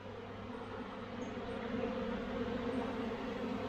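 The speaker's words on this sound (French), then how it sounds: "Plein d'abeilles dans le ciel, hein." A honeybee swarm on Réunion fills the air with a steady, dense buzzing hum of many wings, unbroken throughout.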